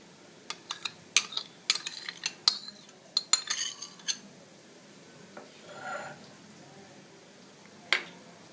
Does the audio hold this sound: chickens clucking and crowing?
no